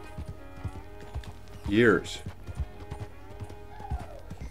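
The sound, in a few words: horse hooves while riding, Red Dead Redemption 2 video game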